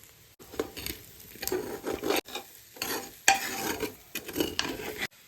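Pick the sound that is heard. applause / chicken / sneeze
chicken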